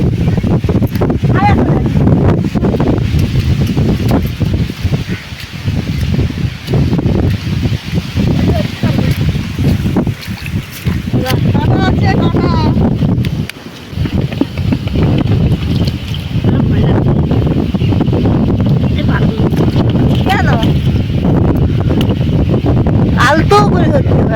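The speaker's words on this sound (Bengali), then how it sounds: "প্রচুর বাতাস হচ্ছে প্রচুর ঝড়টা উঠবে" Strong wind roars steadily outdoors before a rural storm, buffeting the microphone and rustling leaves, loud and continuous with a brief lull midway, while people talk faintly underneath.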